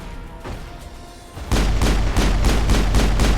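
A grenade thrown during Mass Effect combat: after a quieter lead-in, heavy booming blasts erupt, followed by a rapid, regular series of loud gunfire bursts close at hand.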